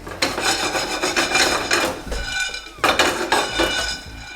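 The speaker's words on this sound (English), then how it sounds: "we're going to dry roast the soybeans in the pan" Soybeans being dry roasted and stirred in a pan make rough, rasping scrapes and rattling against the metal in quick, close bursts, with a short pause midway before the stirring resumes.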